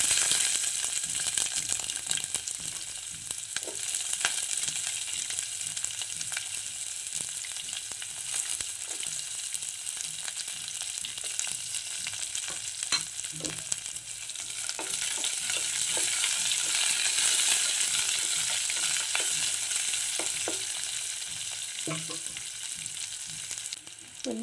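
Onion frying in hot oil with mustard seeds and cumin, a loud, steady sizzle and crackle with occasional stirring clatter, continuous and close throughout.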